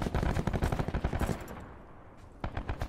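Rapid automatic gunfire from a Black Ops 4 Blackout match, loud and close. Dense bursts of shots run for over a second, then a short lull, then more firing resumes near the end.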